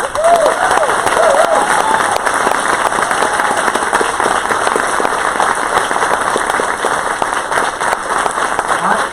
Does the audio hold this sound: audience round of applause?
yes